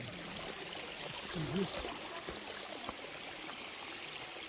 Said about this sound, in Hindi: इधर ये देखिए पानी गिर रहा है मिर्चैया फॉल में